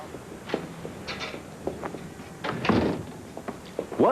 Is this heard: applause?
no